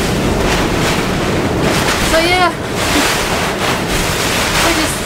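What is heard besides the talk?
horizontal rain and wind during tropical cyclone Debbie on a sailboat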